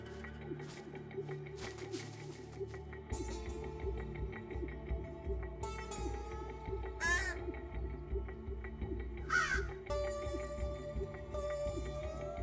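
Young crows, newly banded fledglings just returned to their nest, give repeated harsh caws in a noisy outdoor setting, several calls spaced across the stretch over a steady background rumble.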